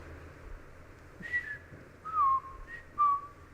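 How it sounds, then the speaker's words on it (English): Several clear whistled notes, like a whistled language, rise and glide in short phrases over a soft, steady room hum, with a longer sliding tone and a final held whistle near the end. "people have learned to communicate with whistles"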